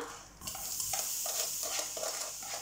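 Sugared banana pieces drop into a hot pan and sizzle, a bright continuous frying hiss with light scrapes and knocks from stirring, close and without speech.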